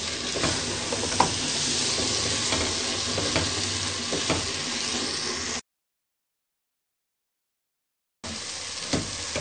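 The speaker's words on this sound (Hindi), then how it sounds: "अब हम इसमें दाल शामिल करेंगे, जो मैंने बॉईल करके रखी हुई थी। इसको हम अच्छे तरीके से थोड़ा भूनेंगे।" Boiled urad dal fries and is stirred in a pan, a continuous close sizzle with scraping stirs, broken by a short gap of silence before the sizzling resumes.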